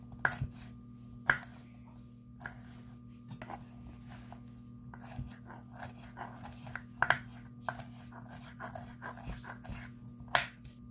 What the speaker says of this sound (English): For cauliflower, I'm just going to chop it like this first.